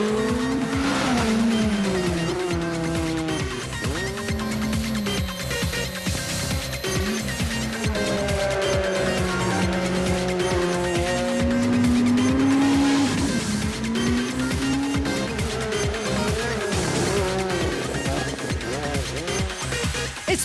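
A Ford Fiesta S2000 rally car races flat out along a stage, its engine loud and continuous with rising and falling revs, gear changes and tyre squeal throughout, heard close with no pause.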